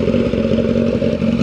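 Motorcycle exhaust in GP mode revving hard and close, a loud, steady throaty drone with rapid rumbling pulses throughout the short burst, with no talking over it.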